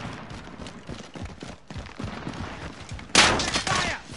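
Rapid Warzone gunfire, bursts of close shots crackling throughout with a louder, sharper volley near the end, over busy game background noise.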